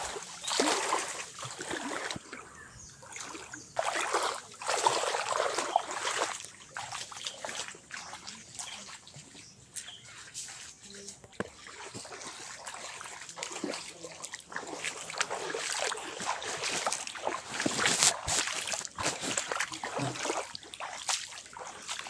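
Floodwater pours and trickles through a village, a steady rushing wash with splashes close by and occasional faint voices.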